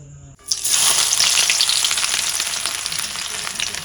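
Ginger and garlic hit hot oil and break into a loud, steady sizzle that holds for several seconds, close up, with no talking.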